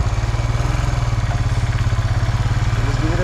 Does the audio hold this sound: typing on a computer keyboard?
no